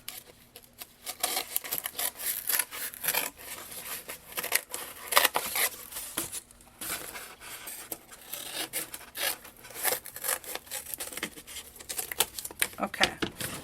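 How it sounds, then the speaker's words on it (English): Steady, crunchy snipping and rasping of scissors cutting through cardboard, close up, with repeated strokes and no talking. "Here, we're just going to use the scissors."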